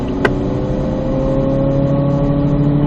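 A race car accelerates out of a corner over the exit curb on a track, its engine a steady, loud drone heard from on board.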